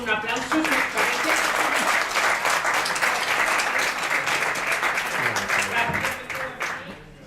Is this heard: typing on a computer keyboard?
no